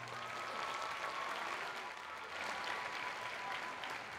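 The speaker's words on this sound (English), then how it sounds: "Everyone, let's give a round of applause to Sam." A school orchestra festival audience gives a steady round of applause, a dense, even wash of clapping held at a moderate level for the whole stretch with no voices on top.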